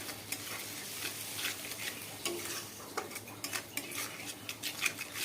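A spoon stirs spice paste, ground with water, into fried onions in a frying pan while making a thin Bengali fish curry. The pan sizzles steadily, and cutlery scrapes and clinks in an irregular rhythm close to the microphone.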